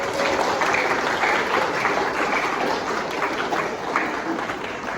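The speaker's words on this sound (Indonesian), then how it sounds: "mari kita beri aplaus yang meriah" A church congregation at a year-end service applauds in steady, dense clapping that fills the room, loud and continuous throughout with no talk.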